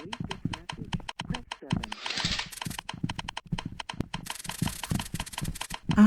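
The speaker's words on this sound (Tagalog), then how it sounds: "Parang may nagtatype ng ano." Rapid keyboard typing clatters in a horror video game, steady clicking keystrokes with a brief hissy burst midway, heard under someone talking throughout.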